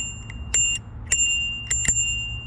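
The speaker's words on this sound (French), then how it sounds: "Donc j'ai dû installer une sonnette." A bell fitted to an electric scooter rings in several sharp metallic dings, some in quick doubles, close and clear over a low background rumble.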